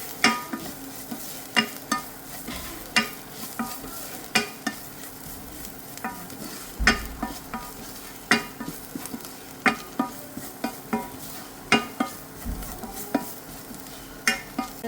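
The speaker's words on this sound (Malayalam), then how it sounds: "ഇനി നമുക്ക് നന്നായി ഇളക്കി ഇതിൻ്റെ പച്ചമണം മാറുന്നത് വരെ നമുക്കിത് വഴറ്റി കൊടുക്കാം." Squid roast masala with added spice powders stirred and sautéed in a pan, a steady sizzle broken by repeated sharp scrapes and clinks of a spoon against the pan, close and clear with no talking.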